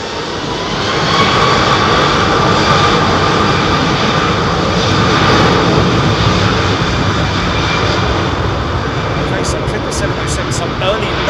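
An American Airlines Boeing 777-200 jet departing London Heathrow, a loud, dense engine roar that swells early and holds steadily throughout, with a voice speaking over it.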